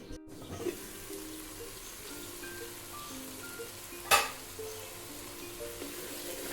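Masala frying in a pan gives a soft, low, steady sizzle throughout, with a brief sharp clink or scrape partway through and no talking.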